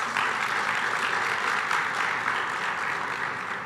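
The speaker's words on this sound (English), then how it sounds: "yes, a round of applause, please." Audience applause at a tech company CEO's keynote, a steady, dense wash of many hands clapping at moderate level throughout, with no voices standing out.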